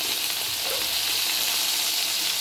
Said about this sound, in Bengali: এই আবার পমফ্রেট মাছ কড়াইতে দিয়েছি